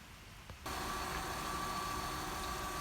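A freshly installed motor in the Fury project car idles steadily after a brief quiet start, giving a constant mid-pitched hum with a faint whine, close by and with no voices.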